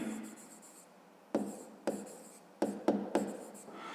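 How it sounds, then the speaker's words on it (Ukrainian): A pen writes on paper for a grade 5 maths exercise, a few short scratchy strokes separated by brief pauses, close but soft, with no talk. "Ну і давайте запишемо пояснення в сторін."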